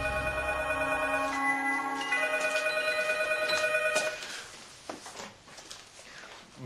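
A telephone rings steadily during an outgoing call, a sustained tonal ringback lasting about four seconds before fading into quiet room noise with a few faint clicks.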